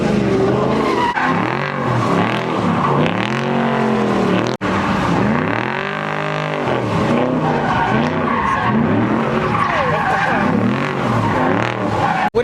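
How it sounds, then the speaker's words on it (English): Loud tire squeal from a car doing a burnout at a crowded car meet, with sustained screeching arcs and engine roar filling the whole stretch; a brief cut interrupts it midway. "What are you about to do right now? Burnout."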